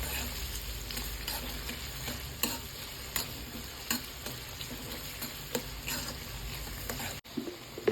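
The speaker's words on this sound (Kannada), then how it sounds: "ಈಗ ಈರುಳ್ಳಿ ಹಾಕ್ಕೊಳ್ಳೋಣ. ಕೆಂಪಗಾಗೋವರೆಗೂ ಫ್ರೈ ಮಾಡ್ಕೊಳ್ಳಿ." Onions frying in hot oil with cumin and a bay leaf, stirred so they brown: a constant crackling sizzle with sharp spoon taps and scrapes against the pan, close and alone.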